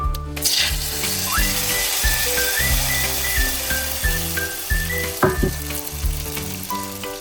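Tempering for a Kerala fish curry sizzles loudly and continuously in hot oil, with scattered sharp clinks and scraping knocks from a utensil against the pan.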